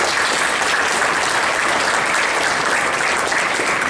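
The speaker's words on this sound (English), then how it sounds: "So let's give them a round of applause." Audience applause at a college athletics hall of fame induction ceremony in a hall, a dense, even wash of clapping from many hands, sustained and loud throughout.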